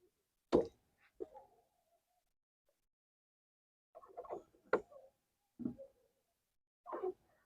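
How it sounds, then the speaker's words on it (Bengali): Drops of water falling from a leak patched with aluminium sealing tape, a handful of distinct plops spaced irregularly with quiet gaps between them, close and fairly clear. "দেখ জল পড়ছে।"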